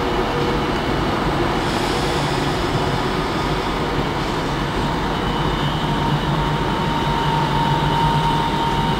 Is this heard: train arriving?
yes